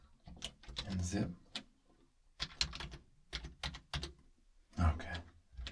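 Computer keyboard typing in clustered bursts of close, crisp key taps with short pauses between, quiet and intimate in a game store setting, with soft speech between the bursts.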